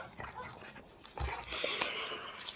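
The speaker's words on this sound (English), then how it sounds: "the intense barking you hear is my dogs" Several pet dogs barking loudly and insistently indoors, with bursts stacking up and getting louder toward the end.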